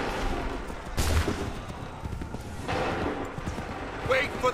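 Musket volleys crack out in Assassin's Creed 3 Remastered, with a loud massed burst near the start and another a little later, over battlefield noise and voices.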